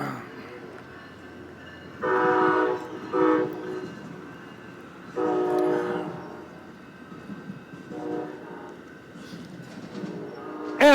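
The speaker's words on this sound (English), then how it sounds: "Bobby, that train is for you." A passing train sounds its horn in several loud blasts at irregular intervals, moderately near, with railway rumble between the toots and faint voices in the background.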